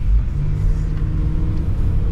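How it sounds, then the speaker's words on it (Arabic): A car's engine rumbles steadily and close by while a learner driver presses the accelerator, with low, even revs and no sharp climb. "كويس، بس بالراحة على البنزين، بالراحة، الموتور هيقع"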